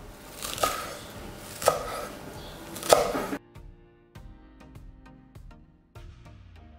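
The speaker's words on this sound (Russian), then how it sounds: "Также нам понадобится свежая петрушка. Нарезаем довольно крупно." A knife chops fresh parsley coarsely on a cutting board. Three distinct, fairly loud chops sound at an even pace, then softer, quieter cutting and board taps follow.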